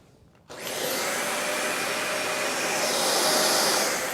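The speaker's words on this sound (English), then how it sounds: "now turn on the vacuum cleaner" A vacuum cleaner switches on after a brief quiet moment and runs with a loud, steady whooshing roar that swells slightly toward the end.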